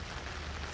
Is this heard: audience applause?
no